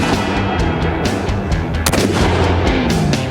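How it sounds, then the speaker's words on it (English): Rapid gunfire rakes a Cadillac's fuel tank on an outdoor firing range, a loud, dense string of sharp shots and booms continuing throughout with no voices. "Commence fire."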